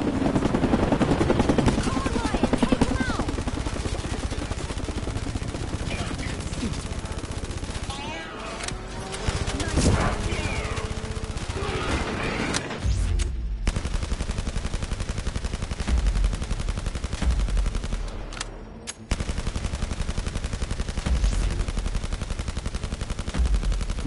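Rapid gunfire in the PSVR shooter Blood & Truth, dense bursts and shots filling the scene continuously, loud and close, with a helicopter-like drone and action noise underneath throughout.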